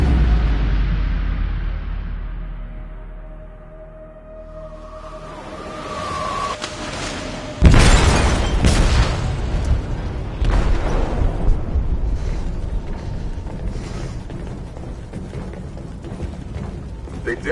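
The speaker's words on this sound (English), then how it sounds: "They detonated an explosive in the hold." In Detroit: Become Human, an explosive detonated in a ship's hold lets out a sudden deep boom after a fading rumble, followed by sustained crashing debris and rushing noise.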